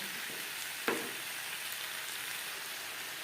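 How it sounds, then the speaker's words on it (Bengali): Onion and tomato stir-fried over a high flame, a faint, even sizzle with one brief scrape of a spoon near the start. "হাই ফ্লেমে 3-4 মিনিট নাড়াচাড়া করে নেব"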